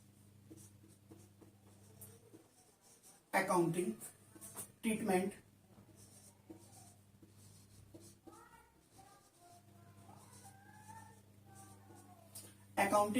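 Handwriting while taking notes during an accounting class. Soft pen scratches run under a teacher's voice, with a few louder rustles and taps in between.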